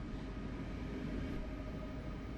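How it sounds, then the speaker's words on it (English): A Metrolink MP36PH-3C diesel passenger locomotive runs on the San Bernardino Line in Train Sim World 5, giving off a continuous low engine drone and rail rumble at an even level. "This train is powered by a Metrolink MP36PH-3C locomotive"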